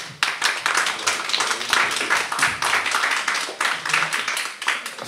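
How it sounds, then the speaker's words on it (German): A small audience claps for several seconds, a steady patter of applause close by without speech. "dafür verdient einmal die Frau Kiss einen Applaus."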